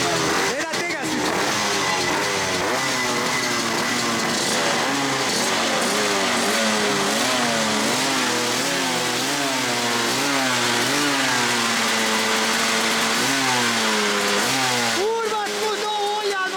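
A drift car engine revs hard while warming up at a 2024 drift event, loud rising and falling revs swinging repeatedly over a continuous roar, with people talking over it.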